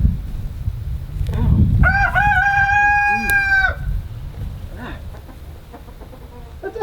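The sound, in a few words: rooster crowing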